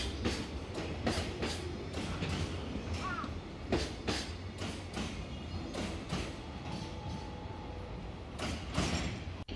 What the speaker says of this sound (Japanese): 貨物列車が近づいていますが、同時に横須賀総武快速も近づいています。